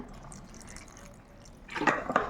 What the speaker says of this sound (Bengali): আর এটা বাটার জন্য সামান্য একটু জল দেব